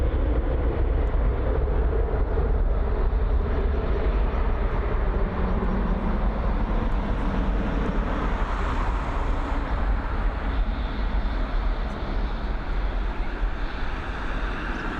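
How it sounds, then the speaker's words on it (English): A Boeing 777 airliner at Dublin Airport produces a broad, steady jet roar that holds loud and even with a low rumbling body, with no talk over it. "It is the 777. It's the biggest aircraft we get in and out of Dublin."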